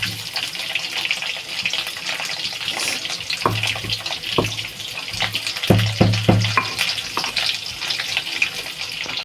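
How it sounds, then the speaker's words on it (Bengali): Drumstick vegetable pieces fry in oil in a pan for a Bengali shukto, giving a steady close sizzle broken by a few soft clinks and scrapes of stirring. "কিন্তু সজনা ভাজা হয়ে গেছে"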